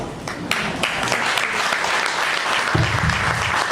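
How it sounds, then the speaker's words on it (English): Sustained audience applause fills a business seminar hall after a motivational talk, dense and steady clapping throughout with a brief swell near the end. "Another round of applause."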